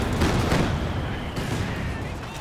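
Calliope rocket artillery barrage in Company of Heroes 2, a dense rumbling salvo of overlapping blasts and booms rolling on without pause, loud and close.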